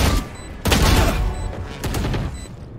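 Video game gunfire rattles in sustained, loud volleys of rapid shots, with a heavier burst partway through and faint electronic beeps above the din.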